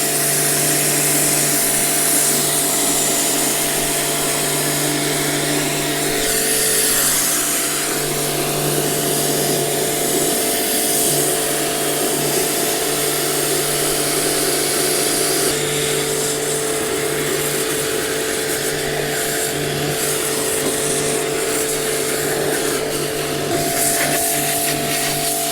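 A Tuf Gun sprays steadily around a car's wheel arch, giving a loud, unbroken hissing rush with a constant mechanical hum beneath it that lasts the whole stretch.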